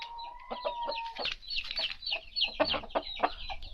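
Hens and a rooster cluck repeatedly in a farm pen, with bursts of overlapping calls growing busier toward the end; a recovered rooster with pale-face disease is penned with the females.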